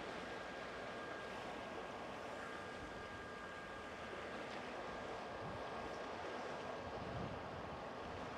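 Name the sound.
wind by the water while fly fishing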